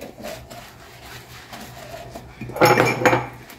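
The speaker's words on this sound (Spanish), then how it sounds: "vamos a ver cuántos trastes lavamos" Dishes being washed with lemon dish soap: soft rubbing and faint clinks for a couple of seconds, then a louder burst of clattering pots and cutlery near the end, close by.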